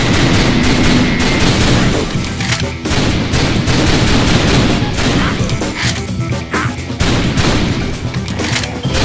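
Rapid, dense video-game gunfire from House of the Dead Overkill, a loud near-continuous volley of shots and booms with crashing impacts and no pauses.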